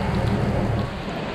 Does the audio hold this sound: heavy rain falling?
yes